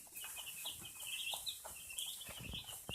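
Young chicks in a brooder kept warm without power, a cluster of faint, high peeping chirps repeating steadily at close range.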